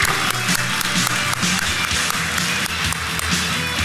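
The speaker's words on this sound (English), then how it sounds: "Let's give him a big round of applause." A conference audience at DEFCON 21 applauds a speaker, a dense, loud wash of many hands clapping continuously for a few seconds.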